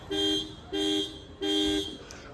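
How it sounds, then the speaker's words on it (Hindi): The horn of a 2023 Maruti Dzire facelift gives three honks at close range: two short blasts, a brief pause, then a slightly longer third blast. The tone is a steady, buzzy two-note pitch over faint background noise, with no talking. "हॉर्न का मैं साउंड सुना दूँ आपको, हॉर्न का कुछ ये साउंड आता है"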